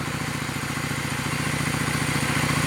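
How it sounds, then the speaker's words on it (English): A broken Honda Shadow motorcycle engine idles steadily up close, a continuous loud rumble with a regular pulsing chug and light mechanical clatter, no pops. "she's idling a little bit better, no pops, or the pop just stopped as soon as I adjusted"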